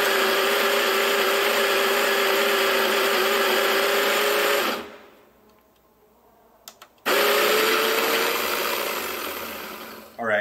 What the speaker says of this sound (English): that took about 7 seconds to grind all 18 grams